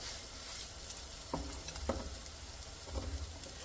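Hot water cornbread patties frying in a pan, a steady soft sizzle with a few brief clinks and stirring touches, faint and close, no talking.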